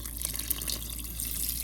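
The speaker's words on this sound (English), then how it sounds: "Add some more water" Water pours steadily into a pot of simmering rouladen on the stove, a continuous close splashing fill with faint drips, no voices.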